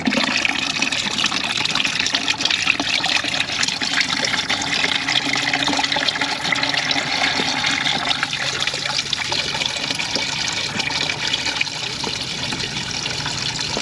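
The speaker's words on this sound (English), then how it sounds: "gonna pour the diesel to wash it out" Diesel poured to flush old oil out of an Amel Super Maramu C-drive during a seal change, a steady liquid pour and trickle running continuously at close range with no talk.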